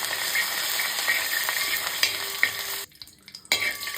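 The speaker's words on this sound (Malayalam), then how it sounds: "അതുപോലെ ഇഞ്ചി ചതച്ചത്, നല്ലവണ്ണം ഒന്ന് മൂപ്പിച്ച് കൊടുക്കുകയാണ്." Crushed ginger fries in hot oil in a pan, giving a steady bright sizzle with scraping stirs, a brief quieter dip near the end before the sizzling picks up again.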